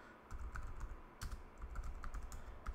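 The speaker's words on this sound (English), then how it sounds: "sometimes you have to type it out exactly how the movie is" Quick, uneven keystrokes on a computer keyboard as a movie title is typed into a search field on a Linux Kodi setup. The clicks come in short clustered bursts, close and fairly crisp, with no talking.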